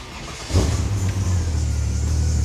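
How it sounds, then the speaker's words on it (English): A Toyota LandCruiser FZ 80 series converted to a turbo Barra engine catches about halfway in, then settles into a steady, deep idle rumble that continues to the end. "Now turn the car on."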